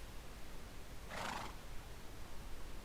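A horse in the game Minecraft gives a single short neigh, fairly close and clear, standing out briefly over a low steady background hum.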